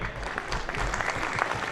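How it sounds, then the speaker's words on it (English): Audience clapping at a business network launch event in Hyderabad, a modest, even patter of hands held at a steady level with no voices standing out. "इतनी सी ताली में कुछ नहीं होगा."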